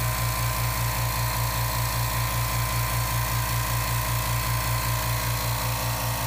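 A California Air Tools 2010A oil-free 1.0 HP air compressor with a 2.0-gallon aluminum tank runs continuously, giving a steady, even motor drone with a fast regular pulsing throb, fairly loud and close.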